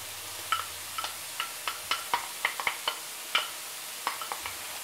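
Chopped onion stirred into browned hamburger in a pan gives a faint, soft sizzle broken by a series of sharp spoon taps and scrapes at an uneven pace, close and quiet, with no talk.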